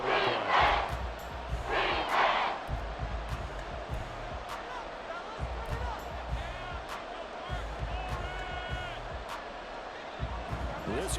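Stadium crowd roaring steadily throughout a Madden NFL 24 football game, swelling louder in the opening seconds with sharp thuds and bursts scattered over the dense, sustained noise, while a commentator talks over it.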